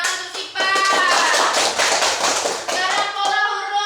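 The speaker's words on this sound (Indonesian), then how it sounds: "Tepuk tangan untuk Sipa." Children in a classroom clap together in a dense, steady burst of hand claps that runs for several seconds, close and fairly loud, with a brief dip partway through before the clapping picks up again.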